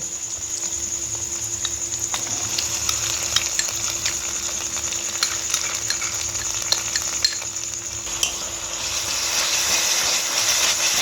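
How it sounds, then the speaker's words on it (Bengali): Spice paste of ground cashew, fennel and poppy seed frying in oil in a pan for a fish curry, a steady loud sizzle throughout with occasional clinks and scrapes of a stirring spoon, no talking. "এবার মশলাটার সাথে ভালো করে এটাকে কষিয়ে নেব।"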